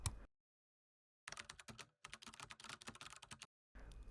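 Someone types a prompt on a computer keyboard in quick, close, irregular clicking runs, with a short pause between bursts and no talking.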